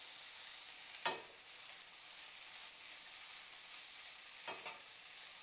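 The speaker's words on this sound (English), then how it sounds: "we're gonna give it a little stir." Gluten-free vegan pasta with basil stirred in a pan, a quiet steady sizzle with two soft scraping stirs of the utensil, near and faint, no talking.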